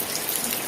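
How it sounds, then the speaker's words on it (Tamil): Heavy rain pouring steadily on an evening, a dense continuous hiss of falling water at even loudness throughout with no breaks and no voices. "மழை தான் நல்லா பெரிய மழை தான் நல்லா பெஞ்சிக்கிட்டு வருது"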